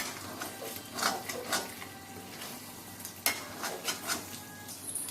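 Cooked masala chicken being stirred in a pan, a steady soft sizzle with several scraping strokes of a spoon, close and moderately quiet, no voices.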